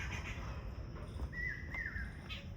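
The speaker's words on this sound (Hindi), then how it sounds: "मोर की आवाज़ सुन ले भाई।" A peacock in a park gives a single faint, wavering call in the distance during a morning walk, set against steady outdoor background noise.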